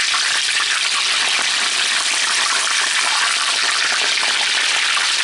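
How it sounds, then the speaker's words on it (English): Already-cooked food crisps in hot oil in a pan, giving a steady, dense, close sizzle that holds an even loudness throughout with no pauses or talking. "And this is just gonna fry fairly quickly because it's already cooked."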